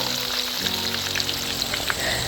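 Chicken butterfly pieces frying in hot white oil, giving a dense, steady sizzle and bubbling with small crackles close up, and no voices.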